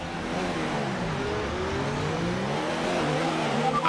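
An F1 race car engine on the formation lap in F1 2019, a steady, loud, buzzing drone with pitch gently rising and falling as the car is driven along.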